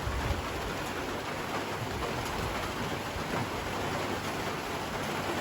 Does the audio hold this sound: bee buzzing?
no